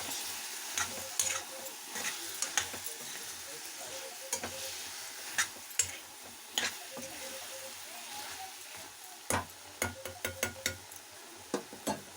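Ivy gourd curry with onion and chili powder being stirred in a pan as it fries: steady close sizzling with repeated scraping strokes and sharp spoon knocks against the pan, no talking.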